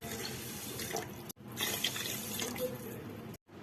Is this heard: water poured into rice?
yes